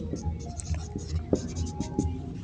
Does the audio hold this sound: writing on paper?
yes